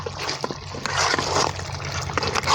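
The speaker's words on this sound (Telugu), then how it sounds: "లైట్గా నీళ్ళు పోసుకుందాం" Water poured lightly into a chicken fry in a pan, giving a continuous sizzling trickle with broadband hiss throughout, close and fairly loud, with a steady low hum beneath.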